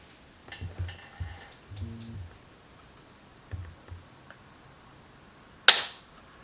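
An AR-15 trigger fitted with JP Enterprises trigger springs is pulled against a pull scale. Soft handling clicks and rustles come first, then a single crisp, close snap as the trigger breaks near the end.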